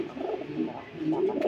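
A pet pigeon coos softly in a short burst of low, throaty murmurs, faint and close.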